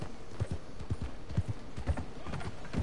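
Horse hooves clip-clopping in Red Dead Redemption 2, a steady run of close, moderately loud thuds with a brief whinny-like trace and no talk.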